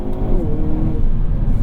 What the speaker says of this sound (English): Great exhaust note, a little bit quieter in this than in the 6-speed manual cars from the Elantra and the Veloster